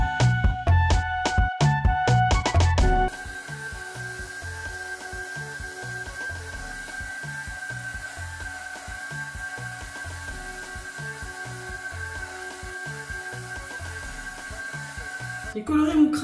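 A hair dryer on maximum fan with the heat at minimum drying freshly coloured hair: after a few seconds of louder opening sound, a steady, even whir with a faint whine holds at a constant level until just before the end.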